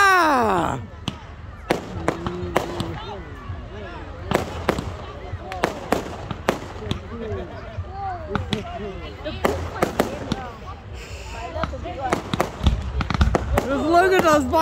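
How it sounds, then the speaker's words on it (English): Fireworks whistle up into the sky and crack in sharp bursts, scattered irregularly over a night display, with people talking and exclaiming throughout. "Just look at those fireworks go soaring into the sky"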